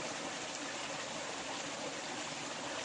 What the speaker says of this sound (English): So you can listen to the sound of the creek.